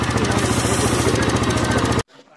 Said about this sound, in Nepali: बाइक चाहिँ स्टार्टमा छ